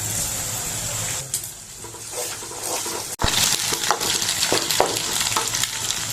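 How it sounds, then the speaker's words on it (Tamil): Egg and onion crackle and sizzle in a hot pan, with a loud clatter midway and intermittent stirring scrapes over the continuous frying hiss. "முட்டை நல்லா வதங்கிடுச்சுங்க"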